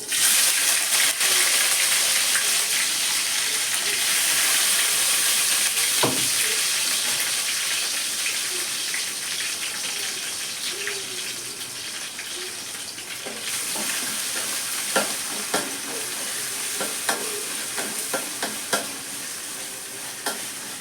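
Crushed ginger and garlic sizzle steadily in hot oil after mustard seeds have popped, a continuous close frying hiss with occasional stirring scrapes and small clicks.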